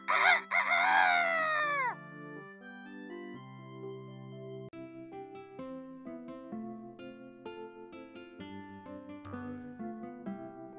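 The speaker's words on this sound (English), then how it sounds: "And Mr. Cockerel once again loudly crows." A cartoon rooster crows loudly up close, a long rising then falling call, followed by bright melodic music playing steadily.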